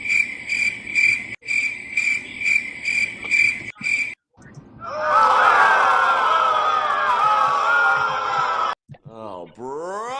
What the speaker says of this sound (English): Do I need to get the crickets?